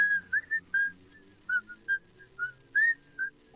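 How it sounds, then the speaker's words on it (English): A person whistles a short wandering tune of about a dozen quick notes, close and fairly quiet, with no talking. "I'll start to whistle."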